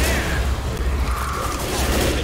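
Heavy mounted gun in the Left 4 Dead subway level blasting in a dense, continuous barrage of booming bursts, loud and close with a rumbling low end.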